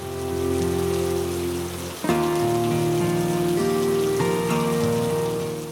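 Rain falls in a steady, even hiss, partly masked by sustained musical tones that run throughout.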